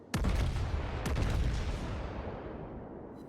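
Warship main guns fire in World of Warships on the Ishizuchi: one heavy, close salvo boom, then a second blast about a second later, each rolling into a long fading rumble.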